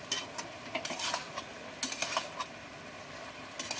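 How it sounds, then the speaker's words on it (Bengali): Pumpkin greens and spices are mixed in a pan, with soft, irregular scraping and stirring strokes of a utensil against the pan, close and fairly quiet, and a faint sizzle underneath. "আবার আমি এগুলো দিয়ে ভালো করে মিশিয়ে নেব।"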